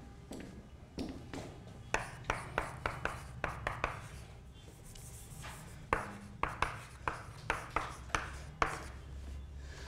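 During a quantum mechanics lecture, chalk or a marker strikes and scrapes across a board in short, rhythmic taps and strokes, two clustered runs of writing, moderately close, with no talking.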